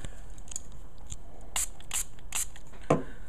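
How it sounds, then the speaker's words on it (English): Three short bursts of aerosol spray hiss in quick succession, fairly close, onto storm-proof matches, followed by a brief clatter. "So I'm going to go ahead and spray another one, 3 sprays"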